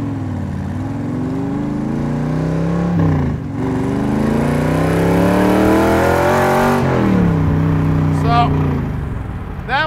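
Factory Five 1965 Shelby Cobra replica accelerating at half throttle, a loud close engine note rising through the gears with shifts between the climbs, heard from inside the car.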